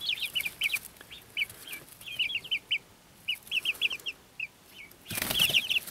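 Silkie chicks chirp in quick high bursts and flap their tiny wings, a lively close cluster of peeps with a louder rush of fluttering near the end.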